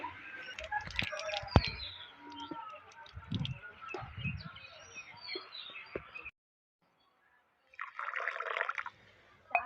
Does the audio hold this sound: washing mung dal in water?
yes